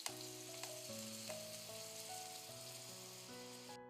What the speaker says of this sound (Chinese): 我们打开盖子，淋上一点清水